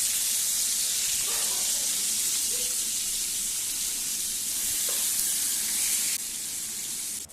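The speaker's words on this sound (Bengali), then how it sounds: "তো এইভাবে আমি মাছগুলোকে বেশ একটু লাল করে ভেজে নেব" Pieces of rohu fish fry in oil with a steady, bright hiss that holds at an even level throughout. Faint clinks sound underneath, and the hiss eases slightly just before the end.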